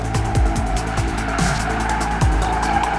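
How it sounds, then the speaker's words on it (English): A stock Audi accelerates hard through its front wheels, engine roaring loud and close with tires squealing on the pavement in repeated rising sweeps, and understeer pushing the car wide. "We immediately notice the car strongly accelerates via the front wheels"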